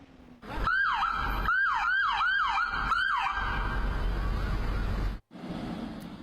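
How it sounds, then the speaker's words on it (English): Loud, close emergency sirens from a convoy of police cars and fire trucks wail in quick repeated yelps, then hold a steady tone over rumbling engines, with a brief cut near the end. "a massive convoy of police cars and fire trucks held a road tribute"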